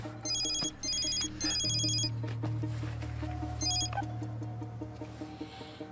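An electronic telephone ringtone trills in repeated bursts, a steady warbling pattern with pauses between rings, for a call from a hidden number; a low hum and faint room noise sit underneath.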